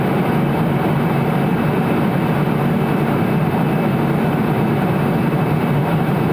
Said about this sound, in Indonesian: lu dengar nggak suara mesinnya kayak gitu?